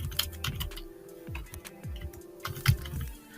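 Typing on a computer keyboard while working in a website sitemap settings page, a few short bursts of soft key clicks close by, quiet and irregular, with no speech.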